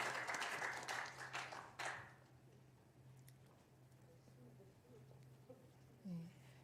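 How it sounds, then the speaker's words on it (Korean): A church congregation applauds during a Wednesday worship service, a fairly loud burst of clapping that fades after about two seconds, followed by a quiet room with a low steady hum. "하나님께 영광의 박수 올려드리겠습니다."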